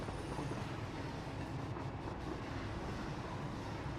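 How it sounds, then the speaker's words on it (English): Train rolling along rails in a factory-building game, a steady continuous rumble with broadband rail noise holding at even loudness throughout, no voices. "You do spend a lot of time riding around in trains at the moment."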